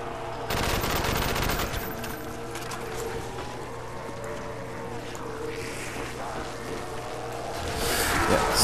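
Dense automatic gunfire from the Call of Duty zombies map Kino der Toten, loud and sustained across the whole stretch, with a burst at the start and game noise layered throughout.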